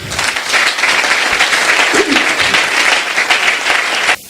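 A church congregation breaks into loud, sustained applause, many hands clapping in a dense, even roar close by that cuts off abruptly at the end.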